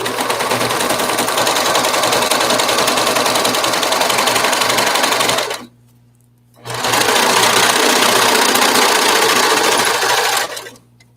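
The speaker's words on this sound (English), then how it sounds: "So I line the two pieces up together and I sew away." A sewing machine stitches two lined-up pieces of fabric together in two long continuous runs, loud and steady with a brief pause between them, and no talking.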